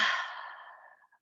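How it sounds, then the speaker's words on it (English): A slow, deep exhale during a gentle mat yoga practice: one soft, breathy sigh that starts fairly strong and tapers away over about a second, alone and close. "Each breath getting a little bit longer and deeper."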